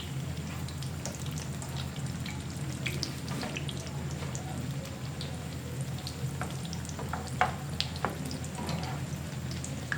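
Chicken shami kababs fry in very hot oil in a pan, giving a faint, steady sizzle with scattered crackles and pops and no talking.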